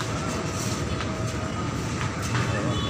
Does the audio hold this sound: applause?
no